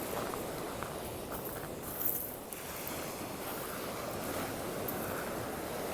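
Ocean surf on a Sanibel Island beach in Florida, a soft, steady wash of waves with wind buffeting the microphone and a brief swell of louder water midway.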